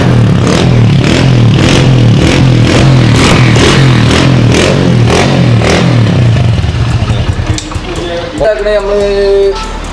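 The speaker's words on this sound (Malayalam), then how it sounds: "പൊട്ടുള്ള സൈലൻസർ വെച്ചിട്ടുള്ള സൗണ്ടാണ് നിങ്ങൾ കേട്ടുകൊണ്ടിരിക്കുന്നത്" A loud Hero Splendor motorcycle engine with a broken silencer idles with a rough, rhythmic popping throb up close, then revs and changes pitch near the end.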